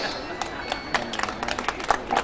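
An audience claps at a devotees' gathering, a brief scattered patter of hand claps from several people, fairly close, with voices murmuring underneath.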